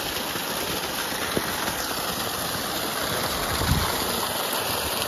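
Water gushes from a newly fitted CRI 5 HP solar pump with a 50-metre head on a farm under cloudy skies, a steady broadband rush with a faint low thump near the end.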